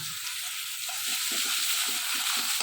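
Chopped onion fries in a pan for a tangy fish dish, a steady sizzling hiss with soft crackling that swells slightly as the pieces settle in, close and fairly quiet.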